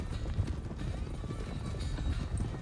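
A horse's hooves clip-clop at a steady walking pace in the video game Red Dead Redemption 2 (RedM roleplay), moderately loud over a faint background hiss, with no talk.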